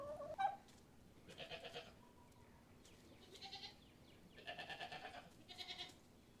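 Goats bleat on a farm in several separate bursts, some nearer and louder, with chickens or other fowl calling faintly among them and a quiet outdoor background between the calls.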